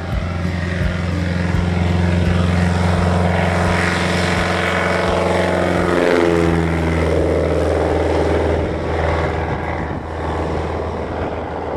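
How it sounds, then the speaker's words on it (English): A propeller airplane flies in over the Alaska wilderness, its steady loud engine drone and prop buzz filling the air and shifting in pitch as it passes close. "The weather's broke, so plane's on the way"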